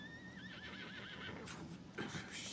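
A horse in Red Dead Redemption 2 lets out a loud, wavering whinny up close, followed by snorts and shuffling hoof noise against a steady game ambience, with no talk.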